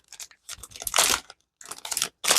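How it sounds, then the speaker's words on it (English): Plastic packaging crinkles loudly right beside the microphone during a resin craft session, in three bursts of rustling and crackling separated by short silences. "Excuse the crinkling noise"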